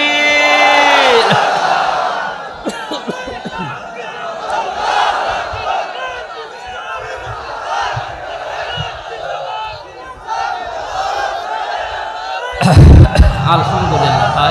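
Large crowd at an outdoor Islamic sermon in Jashore roaring a loud collective takbir response, a sustained swell of many voices filling the clip, with a sharp surge near the end.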